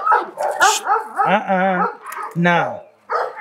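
A Bull Terrier barks several times in short, loud bursts close by, with a person speaking in between and over the barks.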